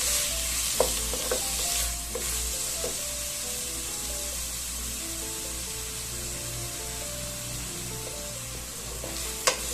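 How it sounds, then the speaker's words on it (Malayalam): Chopped onion, ginger and garlic sautéing together in a pan for a Christmas mutton stew, with a steady close sizzle and a few light stirring clinks and scrapes throughout, and no voices. "ഇഞ്ചി വെളുത്തുള്ളി എല്ലാം ഞാൻ സവാളയ്ക്കകത്ത് തന്നെ ചോപ്പ് ചെയ്തതുകൊണ്ട് അതിനകത്ത് തന്നെ ഇത് ഒരുമിച്ച് ഞാൻ ഇട്ട് അങ്ങ് മൂപ്പിച്ചെടുക്കുക ചെയ്യുന്നു."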